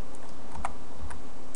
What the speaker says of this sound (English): just basically start typing it in